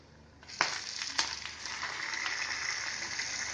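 Chicken pieces added to golden fried onions in a pan for chicken curry, a soft continuous sizzle with a couple of sharp crackles as the meat goes in, fairly quiet and with no talk.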